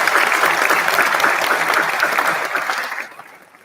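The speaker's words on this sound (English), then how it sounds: "So let's give them a round of applause." Applause from a university graduation ceremony audience comes as a loud, dense, sustained burst of clapping that fades out toward the end.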